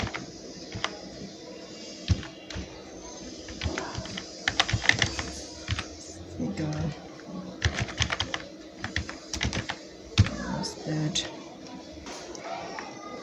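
Item names typed into an Excel sheet on a computer keyboard, giving bursts of quick, close key clicks with pauses between words, while a person talks throughout.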